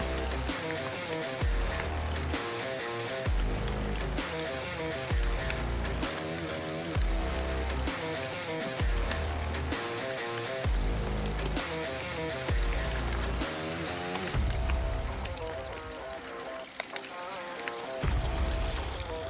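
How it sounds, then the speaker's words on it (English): Natural spring water trickles and splashes on a mountain hiking trail, a steady close burble running on without talk. "Natural spring."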